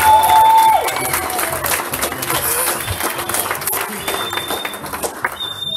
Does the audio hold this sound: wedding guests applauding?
yes